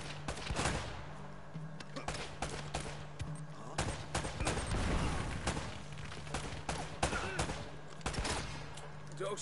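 Rapid gunfire crackles through an Uncharted firefight, with dense bursts and single shots spread across the clip at steady loudness over a low hum.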